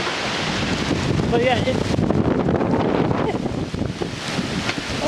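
Strong gusting wind roars during a severe thunderstorm and high-wind event in St. Louis, where a large backyard tree has come down, filling the whole clip as a loud, continuous rush with a person talking over it.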